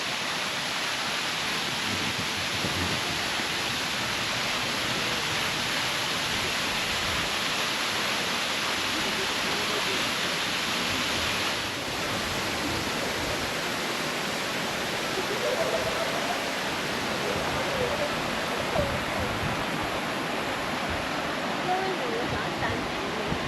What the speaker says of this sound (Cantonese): 呢個係琵琶瀑布。